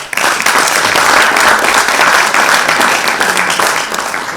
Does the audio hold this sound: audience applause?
yes